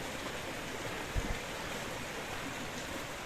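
A village river near Tehran, in the Kan and Solghan area, flows in a steady broadband rush, with one brief dull thump partway through and no voices.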